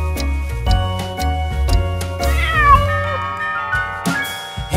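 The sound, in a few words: cat meowing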